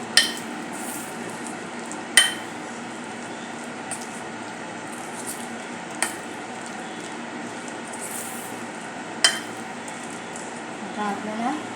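Marinated chicken for nuggets is mixed by hand in a bowl, a soft, wet squishing that runs throughout, broken by sharp utensil clinks every couple of seconds.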